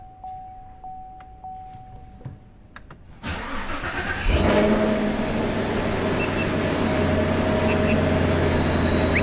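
A 2019 Camaro SS 1LE V8 cranks and fires up after a spark plug install, a loud whirring crank that catches into a roaring start and settles into a steady, deep idle close by, with a faint voice before it.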